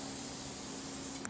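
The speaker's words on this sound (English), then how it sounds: "I'm using a canned acrylic spray for the finish." Canned acrylic spray finish hisses in a continuous, fairly quiet aerosol spray onto a wooden coat rack, ending with a small tap, with no talking.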